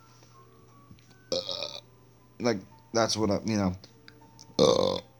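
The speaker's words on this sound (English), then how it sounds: "I had a burp." A loud, abrupt burp cuts in after a man's speech, followed by more talking and then another short burst of noise.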